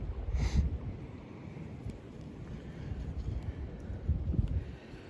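Wind rushes and buffets over the microphone beside a spring creek while fishing, a continuous, fairly faint rumble with gusty swells and no talking.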